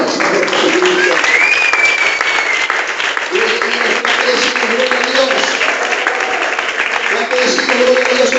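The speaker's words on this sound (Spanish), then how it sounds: "Un aplauso para el Señor Jesucristo." Congregation at a Spanish-language church service applauding steadily, a dense, loud wash of clapping that fills the whole stretch, with voices faintly audible beneath.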